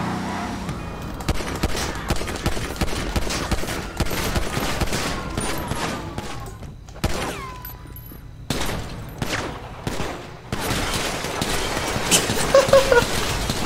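Gunfire in a GTA V roleplay shootout crackles in irregular bursts of sharp shots over steady vehicle and street noise, fairly loud and close throughout, with brief lulls between volleys.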